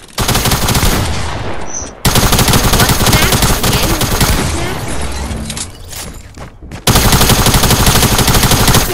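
Sustained automatic gunfire in the Fortnite video game, dense rapid bursts running loud and nearly continuous with a brief break before resuming, with a faint voice in the mix.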